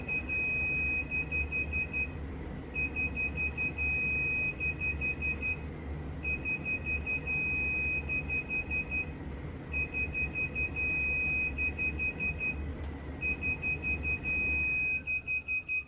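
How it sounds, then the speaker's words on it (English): A Sur Ron Light Bee MX e-bike controller repeats a long, steady electronic beep in even cycles with short gaps during throttle calibration, loud and close over a constant low hum. "It beeps once when it's done calibrating."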